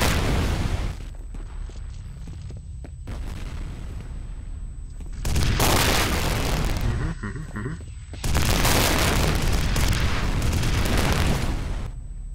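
Grenade blasts and gunfire in the shooter game F.E.A.R.: two long, loud booming explosions with rolling noise, separated by quieter stretches with faint crackling shots.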